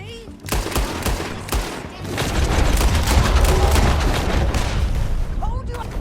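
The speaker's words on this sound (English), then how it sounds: "Told you I could shoot a gun, didn't I?" Gunfire in Red Dead Redemption II, with scattered shots early on giving way to a dense, booming volley of overlapping fire and a rumbling low end, all under in-game voices.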